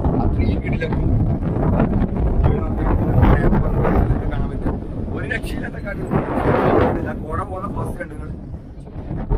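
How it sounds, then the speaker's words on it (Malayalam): Strong wind buffets the microphone at a hilltop trekking viewpoint, a loud continuous roar with gusty surges throughout. "ഒറ്റ രക്ഷയില്ലാത്ത കാറ്റ്."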